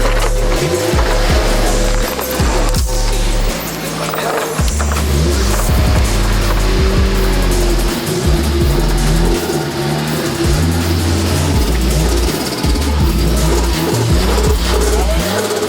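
A KA-T car engine idles loud and close through twin 2.5-inch mufflers, a steady throbbing rumble with uneven lumpy pulses and occasional light revs, running on without a break.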